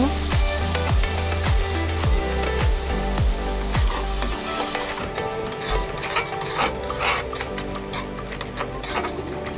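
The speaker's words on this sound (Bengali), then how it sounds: "রসুন বাটা পেঁয়াজ বাটা কিছুক্ষণ নেড়ে নিব" Garlic and onion paste sizzles steadily in hot oil while being stirred for a pangas fish bhuna, a continuous loud frying hiss with scraping, no voices.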